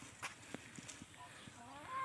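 Turkeys and poultry on a small self-sufficient Thai farm, scattered clucks and short calls near and far with a few sharp knocks, fairly quiet overall.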